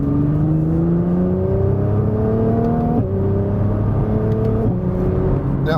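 A 2020 Nissan GT-R 50th Anniversary V6 engine pulls through rising revs in several gear steps, each climb followed by a short dip at the shift, loud and close from the cabin.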